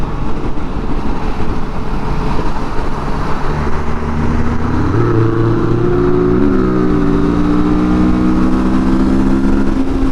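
A Ferrari 488 sports car passes by outdoors, its engine tone rising and swelling over a steady background roar of traffic, loud and fairly near in the middle of the clip.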